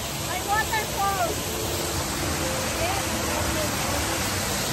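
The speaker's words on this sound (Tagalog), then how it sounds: "May waterfall." The Rain Vortex, an indoor waterfall at Jewel Changi in Singapore, roars as a loud, continuous wash of falling water, with faint voices and brief chirps over it.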